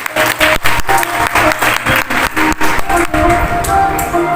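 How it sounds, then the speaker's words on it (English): A crowd applauds steadily at a school celebration, many hands clapping together in a dense, continuous patter at close range. "Please give a round of applause."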